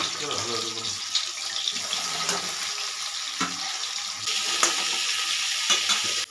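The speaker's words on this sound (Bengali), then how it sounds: "এবারে কপিগুলো লাল লাল করে ভেজে নিচ্ছি" Cauliflower pieces frying in oil until reddish brown, a soft continuous sizzle with occasional clicks and stirring knocks, fairly quiet and close, with no voice over it.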